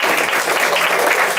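Audience applause at a county cancer caucus event, steady and dense throughout, a full room clapping loudly with no pauses.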